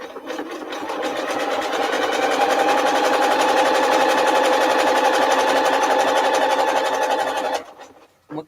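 A sewing machine stitches a very tiny zigzag for a zippered fat quarter project bag, running fast and steady for about seven seconds before stopping abruptly, loud and close with a rapid mechanical chatter.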